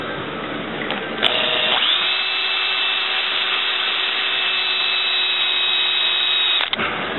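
A power drill bores into the middle of a rivet while removing rivets to replace a curved front corner window, whining steadily and loudly for about five seconds after a brief start, then stopping abruptly.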